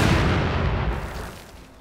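Mortar fire from a German Grenadier unit in the World War II strategy game Company of Heroes 2: a loud, heavy boom with rumbling low-end decay that fades over under two seconds, with no talk over it.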